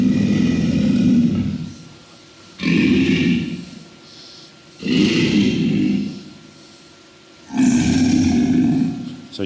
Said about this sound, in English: This is alligator, low frequency,